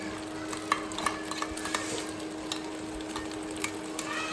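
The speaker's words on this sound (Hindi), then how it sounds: "इसको मिक्स करने के बाद अब हम इसके अंदर डालेंगे मायोनीज़" Mayonnaise being stirred into veg macaroni, giving soft, steady wet mixing and scraping with a few light clicks of a spoon against the pot, close and fairly quiet with no talking.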